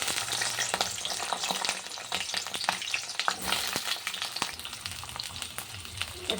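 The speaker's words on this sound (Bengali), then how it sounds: "দেখো তেলটা হয়ে গেছে, আগে পটলটা ভেজে নিই।" Pointed gourd (potol) sizzling in hot oil in a pan, a steady crackling fry broken by scattered sharp pops and the occasional scrape of a spatula, heard alone at moderate volume.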